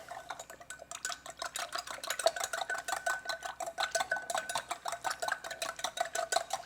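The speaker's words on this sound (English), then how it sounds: "give it a whisk. Whisk it up a little bit." An oil and vinegar vinaigrette being whisked in a bowl for a watermelon salad, heard as a fast, steady run of light metallic ticks and scrapes, close and alone.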